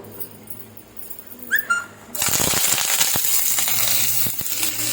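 Onions and curry leaves hit hot oil with a sudden loud sizzle that keeps crackling steadily, close by, after a quieter start with a brief clink.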